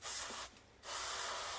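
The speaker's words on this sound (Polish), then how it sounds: "Na koniec wypłukanie sprayem do kontaktów." Contact cleaner sprayed into an electric seat switch of a BMW E46, two loud close hissing bursts separated by a brief pause.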